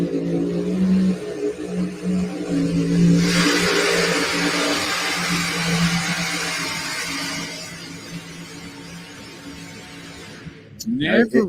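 Mini rod tractor-pulling vehicle at a truck and tractor pull, its engine roaring loud and steady with a surge in the middle before dropping off, with a commentator talking over it throughout.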